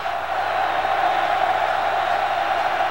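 Steady, dense roar of a big stadium crowd at a college football game, Texas Tech against Oklahoma, a continuous loud wash with no breaks and no clear voices standing out.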